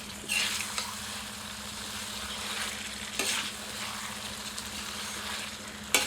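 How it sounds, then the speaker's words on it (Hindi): Chicken masala fries on low heat in a steady, close sizzle, with a ladle scraping and stirring through it in a few louder sweeps. "सबको अच्छी तरह मिलाकर 5 से 7 मिनट धीमी आंच पर भूनते हैं। बीच बीच में करछी चलाते रहते हैं"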